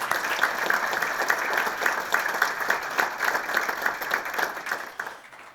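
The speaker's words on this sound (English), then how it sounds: "A round of applause." Sustained applause from an audience at a university fundraiser kickoff presentation, dense steady clapping for several seconds before fading at the end.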